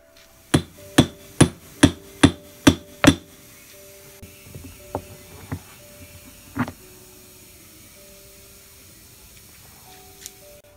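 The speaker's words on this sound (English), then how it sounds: "I moved on to using a hammer to gently persuade it off." Seven sharp, evenly spaced hammer blows ring out on a metal boat propeller being knocked off its shaft, followed by a few softer, scattered knocks and a faint last tap.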